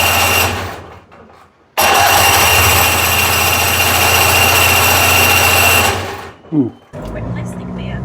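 A Rover 418 Tourer, left standing about a year with stale fuel and a fresh battery in, cranks in one long loud sustained burst of several seconds without catching, with shorter bursts around it.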